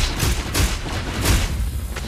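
Explosions in the One Punch Man mobile game during a real-time PvP battle with Genos, a rapid run of loud booming blasts and thuds packed closely together without pause.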